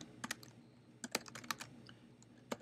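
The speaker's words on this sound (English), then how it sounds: "now you can type some dialogue" Typing on a computer keyboard in a screenwriting application, heard as a few quiet, irregular key clicks with short pauses between bursts, close and alone with no talk.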